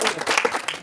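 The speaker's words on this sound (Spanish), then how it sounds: "¡Aplausos!" Brief applause from a church congregation during a sermon, a short mix of clapping and crowd noise.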